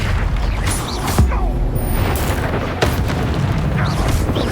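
Bombarda spell explosions from the Hogwarts Legacy video game go off as several booming blasts at irregular intervals over a dense, rumbling game soundscape.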